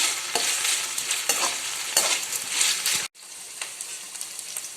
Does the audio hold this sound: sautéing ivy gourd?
yes